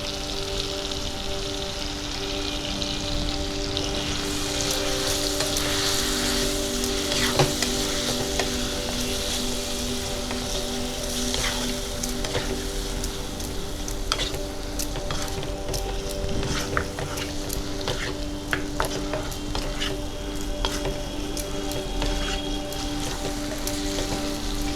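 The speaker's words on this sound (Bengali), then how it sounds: "এবার বোনলেস চিকেনের টুকরোগুলো দিয়ে দিচ্ছি।" Boneless chicken pieces fry in a pan with a steady, close sizzle and crackle that lasts throughout, broken by occasional spatters and scraping stirs.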